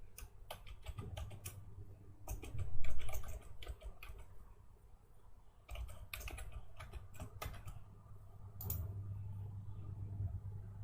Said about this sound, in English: first user need to type in the username, then type in their password